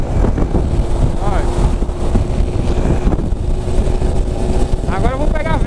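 Heavy wind buffeting the microphone while riding at highway speed on the BR-101 freeway in southern Brazil, a loud continuous roaring rumble with engine drone beneath and bits of voice breaking through.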